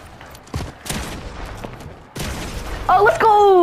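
Gunfire rattles through a video game box fight, with bursts and booms under excited player chatter. Sharp tonal game sound effects chime in near the end.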